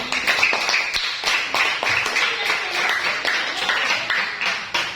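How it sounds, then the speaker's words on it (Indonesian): A classroom of students claps for a presenting group, an uneven patter of scattered hands at moderate loudness that continues for several seconds. "Tepuk tangan untuk kelompok 3"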